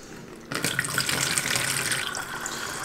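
Ilford ID-11 film developer poured slowly through a funnel, a steady close liquid gush that starts abruptly after a brief quiet moment and runs on evenly, with no talking.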